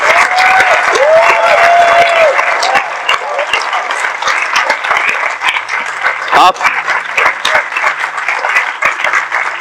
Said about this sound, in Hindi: आइए हम ऐसे यीशु के लिए एक अच्छी ताली बजाएं।